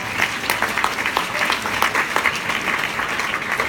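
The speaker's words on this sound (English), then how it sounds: "Let's give them a round of applause." Audience at a MAM event in 2016 giving a round of applause, dense clapping with sharp individual claps standing out, sustained at a fairly steady loudness throughout.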